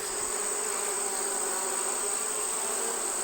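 Honey bees buzz densely across a bee yard of thirty wintered hives, a loud, constant, close swarm drone with a high whine on top and no speech.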